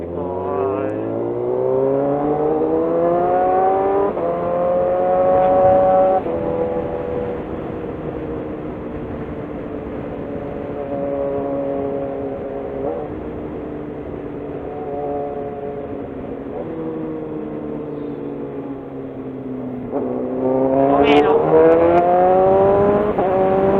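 Motorized tricycle on the road among superbikes, its engine note rising and falling over and over with shifting harmonic whine, closer and louder near the end, with voices underneath.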